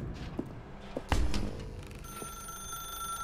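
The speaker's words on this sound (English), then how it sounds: "Now pick up the phone" In The Stanley Parable: Ultra Deluxe, a telephone rings with a steady electronic trill after a few footsteps and a thud, fairly quiet against a low room hum.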